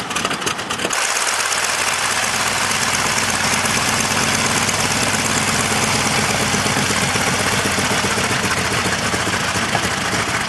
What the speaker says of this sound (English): Nice sound of the radial engine.